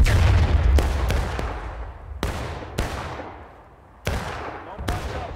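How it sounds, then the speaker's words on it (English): Musket volleys from a battle in the video game War of Rights: sharp, loud shots crack out one at a time at uneven intervals, each one rolling off into a long echo, with a low rumble beneath the first of them. "Keep firing, keep firing."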